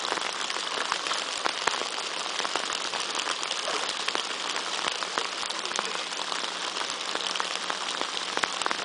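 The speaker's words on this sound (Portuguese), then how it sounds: "Debaixo de chuva agora" Steady rain falls outdoors during a fishing trip, a dense, even hiss of drops on surfaces with scattered sharper taps, continuous and fairly loud throughout with no talking.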